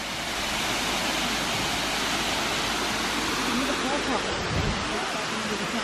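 A waterfall near Whitby sends up a steady, dense roar of rushing water that holds evenly throughout, with voices talking over it.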